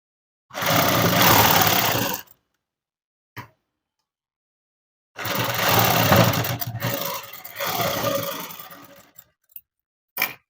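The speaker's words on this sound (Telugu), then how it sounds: "ఇలా కుట్టుకోవాలి." A sewing machine stitching a dress runs in two loud, steady bursts with a pause between them, then comes a short ending burst with a few brief clicks in the gaps.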